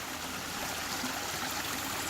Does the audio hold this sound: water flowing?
yes